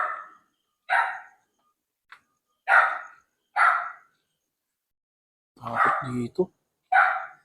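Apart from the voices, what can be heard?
dog barking at an abandoned school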